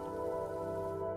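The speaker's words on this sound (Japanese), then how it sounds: "ここでも雨降るのか。" Soft, steady rain falling in the horror adventure game Yume Nikki, a faint wash of patter beneath a sustained droning musical tone.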